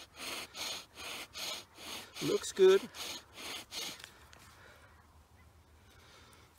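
Rhythmic back-and-forth scraping of a bow drill on wood, about ten strokes, with a brief squeak midway, then the strokes stop and a voice speaks quietly.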